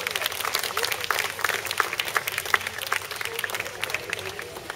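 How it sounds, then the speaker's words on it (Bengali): Steady applause from an audience, many hands clapping densely and continuously throughout, moderately loud with no pauses. "দুজন ব্যক্তির জন্য তাদের সব থেকে বড় হাততালি প্রাপ্য"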